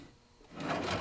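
A drawer inside a stored RV slides open with a soft wooden rubbing scrape that grows louder over the second half, close and alone.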